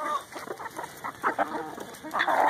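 Several backyard chickens, including Olive Eggers and Americanas, clucking close by in soft, irregular overlapping bursts, with no talk.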